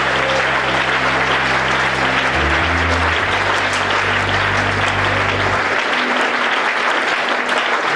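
A church congregation applauds steadily throughout, dense and sustained clapping at full loudness with a low organ or keyboard chord shifting underneath.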